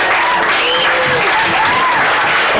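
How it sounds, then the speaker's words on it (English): A festival audience at a talk on space disclosure bursts into loud, dense applause that holds steady throughout, with scattered whoops and cheers rising above the clapping. "Round of applause"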